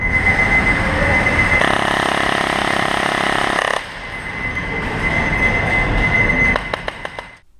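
An airsoft gun on full auto, firing just under 40 rounds per second with 0.20 g BBs, gives a loud, dense, continuous buzzing rattle. The burst sustains for several seconds, then tapers into scattered clicks.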